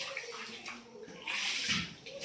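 Water runs steadily through a kitchen flooded after a night of heavy rain, a close, continuous rushing wash with gurgling surges that swell louder midway.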